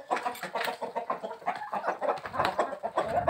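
A group of hens cluck busily at feeding time on a farm, overlapping soft clucks and squawks in a dense, continuous chatter with occasional louder calls, fairly close, with no talk.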